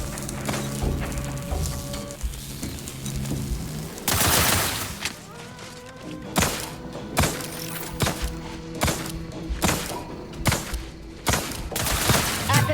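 Gunfire from The Outer Worlds 2 crackles in sharp, repeated bursts at a steady pace after an opening stretch of droning tones and a loud whooshing swell.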